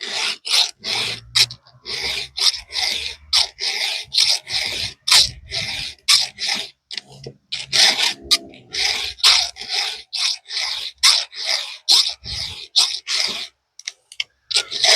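A hand file rasps across the hardened teeth of a damaged Pico chainsaw chain in quick, regular back-and-forth strokes, each a sharp scraping burst with brief silences between.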